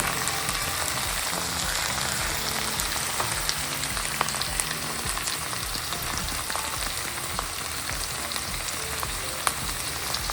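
Eggplant frying in a pan with salt and green chilies, a steady, even sizzle with fine crackling pops running throughout, close and continuous with no talking.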